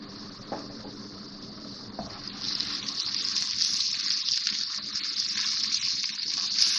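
Garlic-ginger paste goes into a pan of frying onions and sets off a steady, close sizzle that grows louder and denser as it cooks, with no one speaking.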